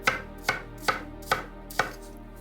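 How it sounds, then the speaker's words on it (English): A knife chops onions on a cutting board for onion soup, making five crisp, evenly spaced chops in a steady rhythm, close up and with no talking. "just chopping them down, not too small, not too big"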